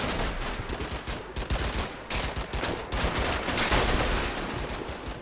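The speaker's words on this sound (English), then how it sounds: "First units have opened fire." Dense, continuous volleys of small-arms and machine-gun fire from a Combat Mission: Battle for Normandy battle, loud and overlapping with no pauses across the whole stretch, no talking.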